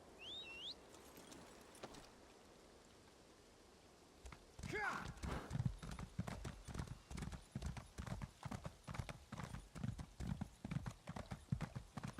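Horse hooves clip-clopping in Elder Scrolls Online, a neon horse trotting in a steady, close, loud rhythm after a quieter opening stretch with a brief whinny-like sound early on.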